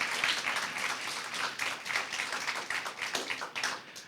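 Audience applause at a secondary-school impromptu speaking competition semifinal: a steady, dense patter of many hands clapping at moderate volume, with no talk over it.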